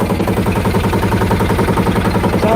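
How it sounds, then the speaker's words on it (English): A 25 horsepower boat engine idling in the Philippines, a steady, close, rapid mechanical chug with an even rhythm and nothing else over it. "That's the 25 horsepower running."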